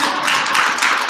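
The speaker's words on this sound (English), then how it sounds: "Please clap." Short burst of audience clapping after a law lecture at a college, a dense, steady patter of many hands filling the room, fairly loud and close with no talk over it.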